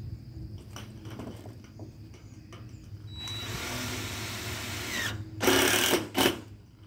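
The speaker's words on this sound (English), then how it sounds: "Now, when you're tightening the screws," Power drill driving screws into metal roof panels, a close whining motor burst of about two seconds followed by two sharper, louder bursts, with scattered handling knocks before it and no talk.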